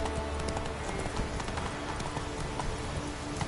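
Geralt's horse Roach trots in The Witcher 3: Wild Hunt, a close, steady clip-clop of hooves running through the whole short stretch over faint game music.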